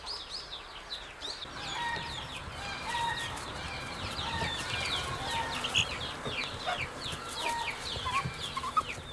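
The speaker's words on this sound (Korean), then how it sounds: "잡아온 갈색 여치를 풀어놓자 닭이 쪼아먹기 시작했다." Chickens cluck steadily and crow now and then while pecking at brown katydids released in front of them. The calls are moderately close and overlap, with ambient farmyard noise underneath.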